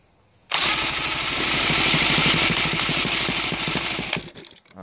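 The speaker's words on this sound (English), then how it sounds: "this engine is really noisy" A YS 160 DZ model airplane engine, converted from CH ignition to glow CDI, starts up abruptly and runs loud and close with a harsh, buzzing, steady roar for several seconds before the throttle dips and the sound drops off.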